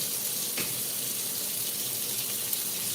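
Water running from a kitchen tap into a measuring cup, a short steady close-up gush with a faint splash near the start.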